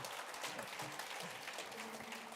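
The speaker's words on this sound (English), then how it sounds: "You may give me a round of applause" An audience claps at a policing summit in a short burst of dense, even applause, with a faint murmur of voices underneath.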